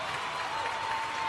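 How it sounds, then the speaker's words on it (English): A brief burst of steady group applause from workshop participants, dense even clapping throughout with a faint tonal hum underneath. "Give you guys another big round of applause."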